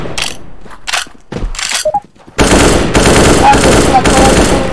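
Video game gunfire in competitive play: a few sparse single shots and clicks at first, then a loud, continuous burst of rapid automatic fire that runs to the end.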